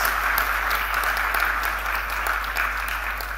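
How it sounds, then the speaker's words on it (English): Steady applause from a crowd, continuous dense clapping throughout at a fairly even level. "But I must thank Dr. V.K. Singh, who really deserves a great applaud, handling 3 ministries."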